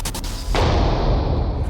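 A pistol fires Agita BB2 18x45 mm ammunition and the round hits a metal sheet, one loud sudden blast followed by a sustained roaring rumble that does not fade within the clip.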